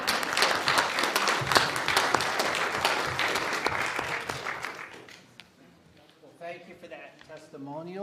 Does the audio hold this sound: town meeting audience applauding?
yes